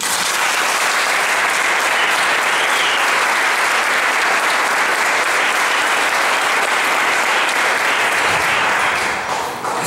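Church congregation at a preachers' school congress applauding the Lord, a loud, dense, steady wash of clapping that holds for the full length without a break.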